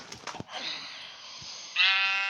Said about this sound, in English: That's a sheep.